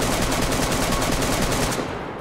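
Rapid automatic gunfire from a weapon in the survival video game DayZ, a dense continuous burst of shots for about two seconds, loud and close, then cutting off abruptly.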